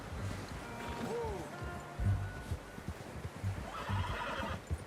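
In Red Dead Redemption 2, a horse whinnies once early on, and hooves clop in an uneven rhythm on the ground throughout, close by and fairly quiet, with some faint voice in the background.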